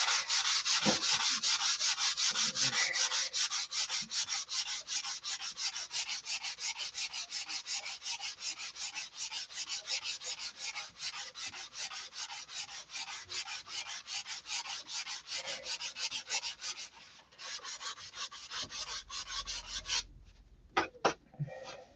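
Steady, rapid abrasive grinding on a Sig Magnum fuse part, a bright rasping scrape repeating in quick strokes, close and continuous for most of the stretch before pausing and ending with a few brief knocks.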